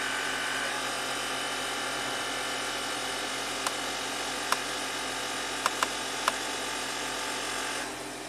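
Air suspension compressor on a 2014 Audi Q7 TDI adjusting ride height, a steady close mechanical whir held for several seconds with a few sharp clicks, stopping near the end.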